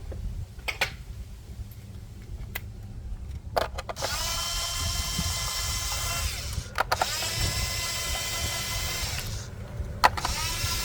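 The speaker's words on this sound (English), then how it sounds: "We're going to break those loose, and then we're going to get it with the gun." A pneumatic impact gun loosening four bolts on a 2015 Honda Accord Sport 2.4 L, with sustained loud buzzing whirs of several seconds each, separated by short clanks and pauses, close up and with no talk.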